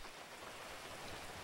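Rainy weather in the GTA V video game makes a faint, steady hiss of falling rain with no break and no voices.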